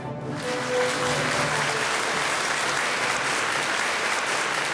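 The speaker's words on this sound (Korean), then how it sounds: "제안에 기립박수로 화답했다" A large crowd gives a standing ovation, dense and sustained clapping filling the room without a break.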